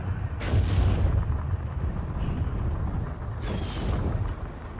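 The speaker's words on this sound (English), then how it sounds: "the barrage is finished and they're opening up. Mortars are going in against these infantry" Mortar barrage in Steel Division 2: heavy booming explosions at a steady distance, with two stronger blasts standing out near the start and near the end over a continuous rumble of battlefield fire.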